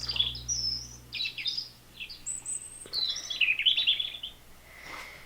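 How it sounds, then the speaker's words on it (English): Bright, high bird chirps and whistled calls in quick clusters, moderately close, with short pauses between phrases over faint background hiss. "Here's a bird sound."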